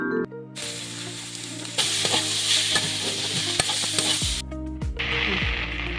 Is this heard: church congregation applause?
no